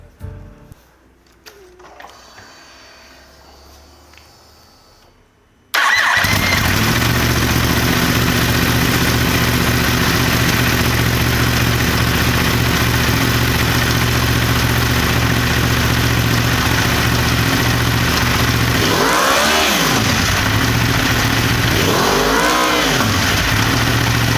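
After a quiet start, a Yamaha R1M crossplane four-cylinder motorcycle with a full Akrapovic exhaust fires up loudly and idles close by, then gives two sharp rising revs that fall back to idle.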